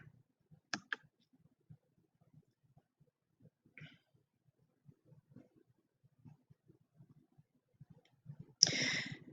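A computer mouse clicks to open an article in a library database: faint, sparse, light clicks in a quiet room, ending in a short louder rustling burst.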